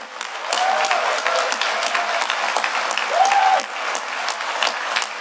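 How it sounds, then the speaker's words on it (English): Audience applause at a DEF CON 20 welcome session in a convention hall, steady and sustained from a large crowd, with occasional cheers and whoops rising above the clapping. "you guys are going to clap again at about like 9 times the volume"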